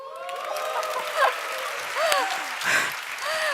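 Audience clapping fills a conference hall during a live corporate event stage show, steady broadband applause with a few louder swells and scattered whoops over roughly three and a half seconds.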